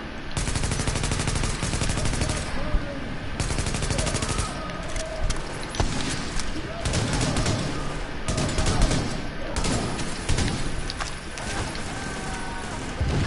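Rapid automatic gunfire from shooting in The Division video game, long dense bursts of loud close shots with brief pauses and mechanical clatter, no talk.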